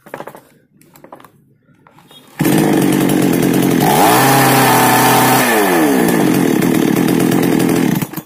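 Chainsaw screaming at full throttle just after its carburetor H screw is turned one turn tighter: a loud, steady high-revving buzz that cuts in abruptly after quieter handling noises, holding for several seconds with a brief pitch dip midway.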